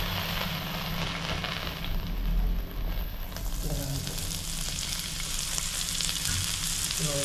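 Garlic and ginger sizzling steadily in hot oil in a pan, a continuous close, fairly loud fry with faint crackle throughout and occasional soft stirring.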